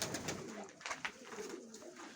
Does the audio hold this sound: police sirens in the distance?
no